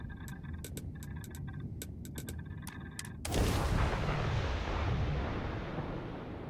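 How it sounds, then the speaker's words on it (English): Gatling gun fire in the video game Starfield: a rapid series of sharp, evenly spaced shots cuts into a sustained roaring barrage that rumbles on steadily, loud and close, with no talking. "There is a Gatling gun in the game."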